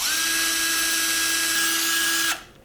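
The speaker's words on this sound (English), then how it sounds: "so that we can drill holes in a straight line up the vehicle" Power drill boring holes in a rocket airframe section, a steady high whine running continuously for about two seconds before cutting off abruptly, alone and close.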